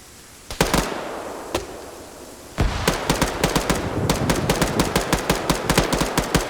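Gunfire in a PvP military shooter game, a few sharp single shots at first, then a dense run of rapid suppressive bursts, loud and close in an outdoor wooded setting.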